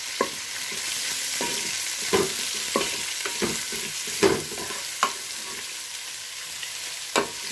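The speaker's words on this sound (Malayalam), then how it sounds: "അപ്പോൾ നമുക്ക് സവോള ചേർത്ത് വഴറ്റിയെടുക്കണം." Four onions sauté in a pan for a Kerala-style chicken roast, giving a continuous sizzle. Repeated scraping strokes and knocks come at an irregular pace as they are stirred, with no voices.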